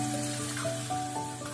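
Muruku dough fries in hot oil with a steady, close hissing sizzle and a fine bubbling crackle that continues without a break.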